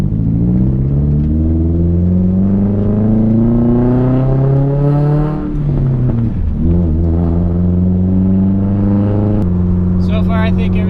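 A Nissan Skyline R drives and accelerates, its engine note climbing steadily in a loud, close, continuous drone, easing off briefly midway before pulling again, with a voice talking over it.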